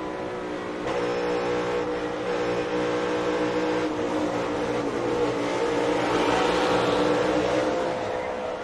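Onboard NASCAR Cup Series race car at the Coca-Cola 600, its engine a steady loud roar with rising, straining pitch toward the end, with no talk over it.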